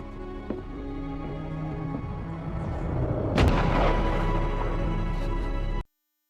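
A single sharp gunshot, a man shooting himself in the head in a dramatic scene, cracks out midway over a steady rumbling background bed, leaves a lingering boom, then cuts abruptly to silence.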